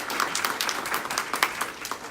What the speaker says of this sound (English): Let's give our president of the KRAB another round of applause.